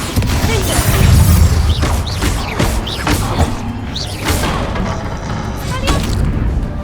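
Confringo and Bombarda spell blasts in the Hogwarts Legacy video game land as a rapid string of loud booms and thuds with crackling debris over a dense, rumbling combat din, with a voice talking intermittently.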